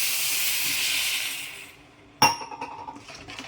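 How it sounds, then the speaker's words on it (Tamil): Water poured into a hot pan with chili powder makes a loud sizzling hiss that fades out, then a sharp metallic clink and clatter of the pan follows, with faint bubbling after. "இதிலே தண்ணி ஊற்றிக்கலாம்."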